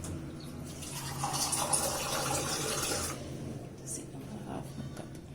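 Water pours into a cooking pot of rasam in a steady, close stream for about three seconds, then fades to quieter trickling and splashing.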